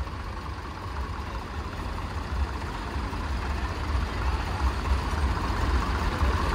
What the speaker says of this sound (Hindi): भैणी वाले ट्रैक्टर देखो